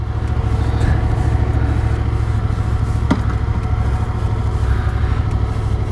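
A 2016 Yamaha XSR700 motorcycle engine, rated around 75 horsepower, runs at a steady loud idle throughout, a dense continuous rumble with one brief sharp click partway through and no talking.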